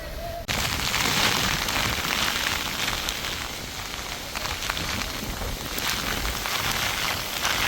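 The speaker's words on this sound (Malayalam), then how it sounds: "പെട്ടെന്ന് നല്ല മഴയും കാറ്റും വന്നു" Heavy rain driven by wind at a hilltop viewpoint in Chathalloor, Malappuram, a steady loud close-up roar of downpour and gusts that starts abruptly and continues without a break.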